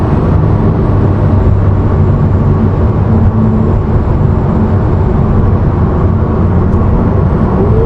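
A Porsche 991.2 Carrera 4S Cabriolet with a PDK gearbox accelerating hard, heard as a loud, continuous engine roar with a rising tone and no talk.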